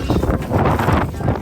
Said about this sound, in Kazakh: Жел болып жатыр ғой.